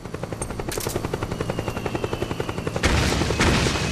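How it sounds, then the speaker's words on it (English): A helicopter's rapid rotor chop pulses steadily under gunfire in the Metal Gear Solid 4 video game, loud and close, with a burst of heavier firing and noise swelling near the end. "Let's shoot that helicopter down."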